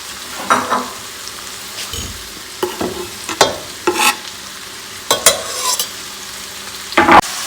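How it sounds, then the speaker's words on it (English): Shallots, cabbage and apple are stirred in sizzling butter in a pan for red cabbage, giving a steady soft fry under repeated scraping stirs, close up, with no talk. "So give that a good mix around in the butter"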